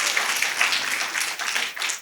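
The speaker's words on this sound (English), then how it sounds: "Please clap for all of us." A crowd at a book launch applauds for teachers, dense continuous clapping blended into a bright wash of sound, fairly loud and steady, easing slightly near the end.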